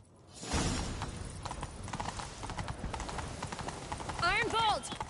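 A horse gallops in the video game Witcher 3, its hooves clip-clopping in a fast, steady rhythm at moderate loudness. A short neigh comes near the end, and voices from the game speak over the hoofbeats.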